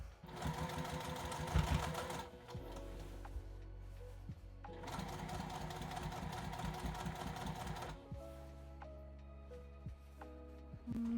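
A sewing machine stitches a skirt in two steady bursts of rapid mechanical whirring, separated by a brief pause. A lower, smoother running hum follows, close and fairly loud.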